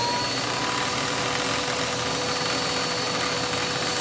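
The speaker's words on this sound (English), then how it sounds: "Let us try running the vacuum cleaner." A Eureka vacuum cleaner, just fitted with a new belt, runs with a steady, loud, close broadband whir and a faint high whine, continuous throughout.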